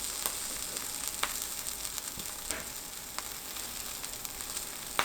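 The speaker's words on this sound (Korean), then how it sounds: "뒤집어 가면서 치즈가 녹을 때까지 구우면 맛있는 파 계란 또띠아 완성" A green onion and egg tortilla with cheese sizzles steadily in a frying pan, a soft, even crackle with scattered louder pops and no voices.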